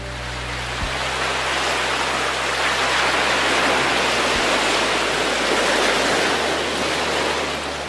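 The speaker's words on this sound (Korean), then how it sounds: "시원한 파도 소리에 정신이 번쩍 드는 느낌이었습니다" Steady ocean surf rolls on continuously, a broad wash of crashing waves at an even, close level with no voices.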